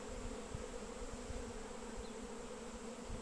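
Honey bees buzz steadily at an apiary hive during a honey flow, a dense, continuous drone of many wings with no talk over it, fairly soft throughout.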